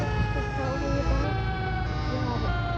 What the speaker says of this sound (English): Yeah, it's a fire siren that's testing.